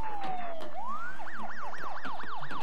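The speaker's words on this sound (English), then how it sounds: "So there's an ambulance" An ambulance siren in SimCity 5, one long wailing sweep followed by rapid repeated whoops, loud and close with a steady background hum.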